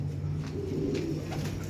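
Racing pigeons coo steadily and close by during a race lap at a loft, a low continuous murmur with no talk.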